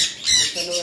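Caged adult pet birds give a short burst of shrill squawking, close and fairly loud, lasting under a second.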